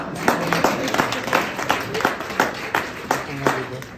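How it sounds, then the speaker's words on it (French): Audience clapping at a public talk in Mali, with a steady patter of hands near and loud that rises and falls briefly under some background voices. "Applaudissez pour moi"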